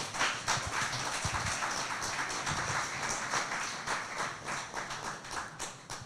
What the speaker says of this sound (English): So please give these guys a round of applause.